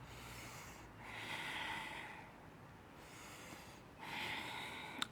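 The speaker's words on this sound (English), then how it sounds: "cleansing breath" Slow, audible breathing comes from a person doing a yoga forearm plank, with a couple of soft, close inhale-and-exhale cycles, faint and unhurried, and no talking.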